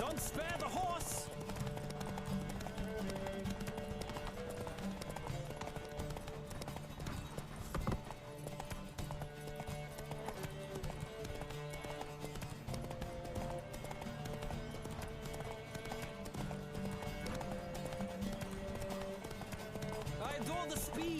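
In The Witcher 3: Wild Hunt, rhythmic clip-clop of hooves pounds at a gallop over a bed of music, with voices speaking now and then throughout.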